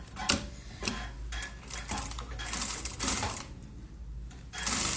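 A sewing machine stitches a fabric bag seam close to the zipper, running in short rattling bursts with brief pauses between them, close and moderately loud, with no talking.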